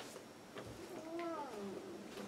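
A house cat meows once in a drawn-out, rising-then-falling call, fairly faint against a quiet indoor room, with a few soft thumps around it.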